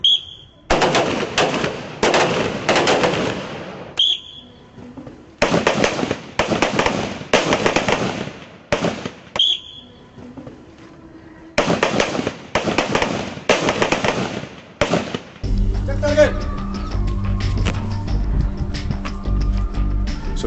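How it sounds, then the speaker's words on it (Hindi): Rifle rounds fire during army shooting practice in three loud bursts of rapid, sharp cracks with brief gaps between them. Music then takes over for the final few seconds. "total of 3 rounds in every position, total of 9 rounds. That is what they will be firing now."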